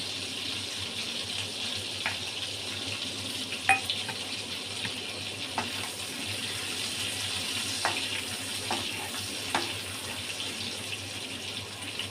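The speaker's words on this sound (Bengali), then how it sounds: "চিংড়ি মাছগুলো ভাজা, ফোড়নটা দিয়ে দিলাম।" Prawns frying in hot oil with a spice tempering added make a steady, close sizzle throughout, broken by occasional small clicks and taps of a utensil, with no talk.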